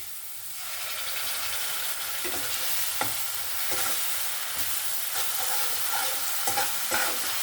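Ginger-garlic paste frying with onion paste in a pan, loud continuous sizzling with repeated stirring scrapes and spatula knocks, close and without speech.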